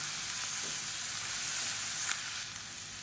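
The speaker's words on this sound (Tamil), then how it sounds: "இப்போ வெங்காயம் லேசாக வதங்க ஆரம்பிக்கவும்" Onions with ginger garlic paste sauté in a pan, giving off a steady, moderately loud sizzling hiss throughout with no talking.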